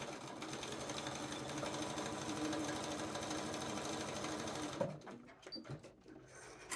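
Home sewing machine running a long basting stitch along a seam allowance for an ease line, a steady close whirring hum for about five seconds before it stops and soft handling noises follow.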